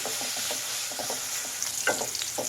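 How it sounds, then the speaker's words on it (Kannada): Thick-cut capsicum strips fry in about two tablespoons of oil in a pan, giving a steady close sizzle broken by repeated scraping stirs, a couple of sharper clinks near the end, with no talking. "ಇದೇ ಎಣ್ಣೆಲೇ ಫ್ರೈ ಮಾಡಬೇಕು"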